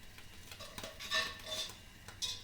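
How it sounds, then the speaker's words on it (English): A utensil scrapes and taps against a pan while butter melts, a few quiet clinking strokes with a faint sizzle underneath, close up and without talk. "So my butter's melting, and we're fixing to get that melted, stir it around"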